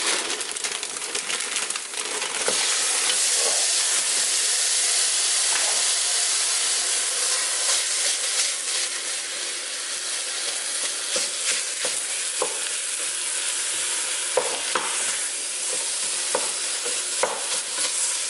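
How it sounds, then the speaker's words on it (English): Ground beef, 85% lean, sizzles steadily in a pan for taco night while being stirred, a loud continuous fry with scattered scraping clicks of the utensil. "Beef in the pan."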